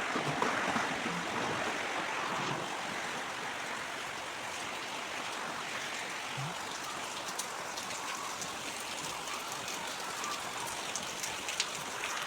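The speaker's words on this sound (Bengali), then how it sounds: "এই বৃষ্টি ভেজা দিনে কেমন লাগছে সবার জানাবেন।" Heavy monsoon rain pours down steadily, a dense, even hiss of drops hitting surfaces that holds at the same level throughout with no voices.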